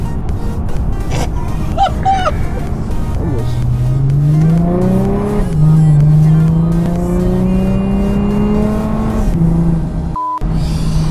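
An Audi RS6 TDI heard from inside the cabin, loud engine rising through several accelerating revs with climbing pitch, shifting between gears, and settling near the end, with brief thumps early on.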